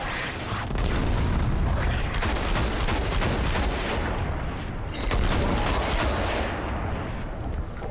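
Dense, loud gunfire and booming blasts in the video game Destiny: Rise of Iron, continuous and near with repeated sharp shots throughout.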